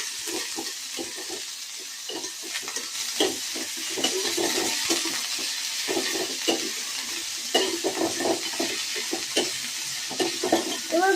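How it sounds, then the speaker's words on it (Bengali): Chopped onions fry in a thin layer of oil, a steady sizzle running beneath repeated scraping stirs of a spatula through the pan, close and fairly loud throughout. "একে একে পেঁয়াজগুলো ছেড়ে এটা একটু নাড়িয়ে নেবো।"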